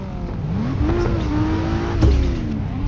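A drift car's engine in the Assetto Corsa racing game, set on the Osaka Nanko course, holds a loud, steady high-revving drone with slight pitch wobbles and a brief surge near the two-second mark.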